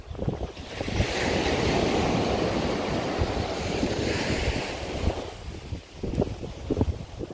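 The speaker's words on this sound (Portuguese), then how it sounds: "esse barulho das ondas aí é sinfonia, né, para os nossos ouvidos" Ocean surf rolls in a long rushing wash that swells and fades, mixed with wind buffeting the microphone, at Mamucabinhas beach, Barreiros, on the southern coast of Pernambuco, Brazil; a few lighter splashes follow, no voices.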